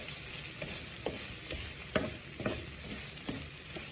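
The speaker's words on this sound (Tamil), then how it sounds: "தேங்காயை போட்டு வடிவாக எல்லாம் சேர்ற மாதிரி கிளறி போட்டு அடுப்பை நிப்பாட்டி விடுவோம்" Grated coconut being stirred in a frying pan for chutney, with steady scraping strokes of the spoon and a soft sizzle running underneath throughout, close and moderately loud, no voices.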